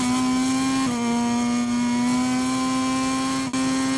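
A motorcycle engine in the video game MotoGP 23 at the Red Bull Ring holds a loud, steady high whine as it powers across the line, with a brief dip near the end.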